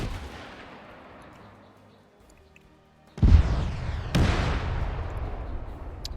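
Rocket fired in a combat video game, a quiet fading rumble followed by a sudden loud blast and a second sharp impact on a gun, leaving a rolling echoing roar afterward.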